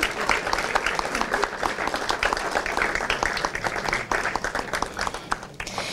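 A crowd at a prize ceremony for a tapas (pinchos) competition in Funes claps steadily for a winning bar, a dense, even wash of applause that holds without a break throughout.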